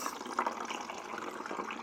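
Homemade cherry syrup trickles steadily from an awkward container into a glass for cherry cream soda, making a continuous liquid pour at close range.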